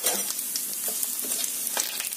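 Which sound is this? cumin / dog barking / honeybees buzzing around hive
cumin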